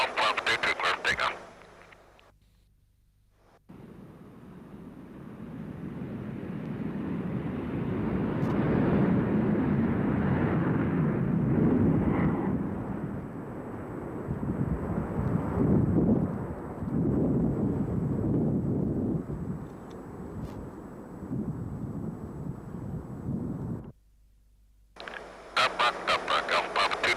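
An F-15 Eagle fighter jet taking off from a runway, a loud, broad roar building and holding for about twenty seconds before cutting off abruptly, with wind buffeting and brief bursts of other sound at either end.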